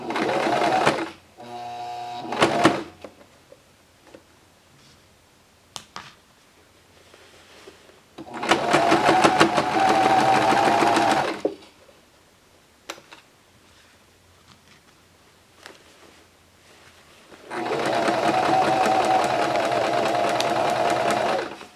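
A sewing machine stitching a button-up shirt runs in three steady, loud mechanical bursts of rapid whirring, with quieter handling sounds and brief clicks in the pauses between runs.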